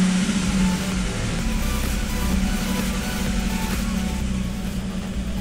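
A turbocharged 3800 L67 engine in a Grand Prix cranks and runs, giving a steady, loud mechanical drone close by that holds for several seconds without talk.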